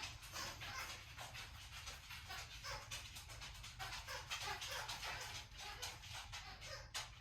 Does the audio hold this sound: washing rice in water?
no